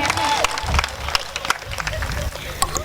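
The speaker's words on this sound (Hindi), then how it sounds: "मुझे एक बार आगे से पीछे तक जोरदार तालियां बजाकर ये बताइए कि आप वाकई अच्छी शायरी सुनने के मूड में हैं।" A crowd at a Hindi poetry recital breaks into applause, with scattered sharp claps over a busy murmur of voices and cheering for a few seconds.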